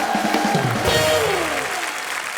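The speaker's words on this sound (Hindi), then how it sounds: "जोरदार तालियां गोविंदा सर के लिए।" The studio audience of the Hindi comedy program The Kapil Sharma Show claps loudly as Govinda arrives. The applause is mixed with swooping musical stinger effects and fades out over about two seconds.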